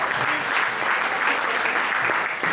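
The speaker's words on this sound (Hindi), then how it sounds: "एक बार तालियों से मुझे आकर्षित कीजिए" Audience applause at a Hindi kavi sammelan poetry gathering, a dense steady wash of many hands clapping for the whole stretch, fairly loud and even, with no talk over it.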